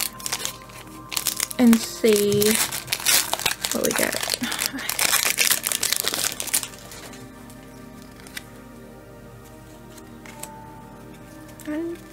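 Pokemon trading cards from a Sword and Shield Lost Origin pack being shuffled by hand, a burst of close, crisp flicking and riffling over a few seconds mixed with nearby talking, then quieter handling.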